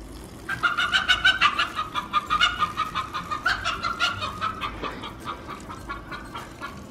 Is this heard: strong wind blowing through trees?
no